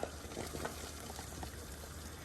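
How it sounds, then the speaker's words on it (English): Spätzle batter drops into a pot of boiling water, with soft plops over a bubbling simmer, quiet and close for about two seconds with no talk. "You see how it drops into the water like that?"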